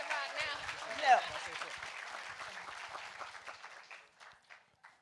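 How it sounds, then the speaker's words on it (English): Audience applause for a guest at a Women's History Month event, a moderate crowd clapping with some voices, tapering off and thinning out toward the end. "Can we get one more round of applause for our guest today?"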